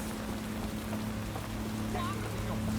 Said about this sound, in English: Walking in London in the rain.